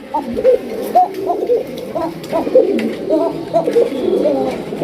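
Red check racing pigeons coo nearby in a run of soft, repeated calls, a new coo every half second or so, with faint background noise beneath.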